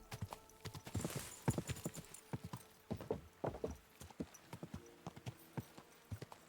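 Horse hooves clip-clopping in the video game Kingdom Come: Deliverance II, a quiet run of irregular thudding footfalls that speeds into a quicker rhythmic beat, with no talking.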